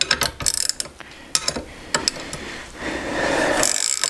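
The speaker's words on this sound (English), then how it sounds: "So I'm going to start tightening this down." Tightening a bearing press on a full-suspension bicycle frame during bearing replacement: a run of close, sharp ratcheting clicks and metallic creaks in uneven bursts, then a steadier grinding rub toward the end, with no talking.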